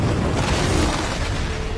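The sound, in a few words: explosion sound effect in movie recap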